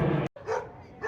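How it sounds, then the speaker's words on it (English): Dogs bark and yip outdoors in a neighbouring yard, a loud bark cut off by a short gap, then more yapping with speech mixed in. "my mom's got the dogs riled up on the neighbor's area"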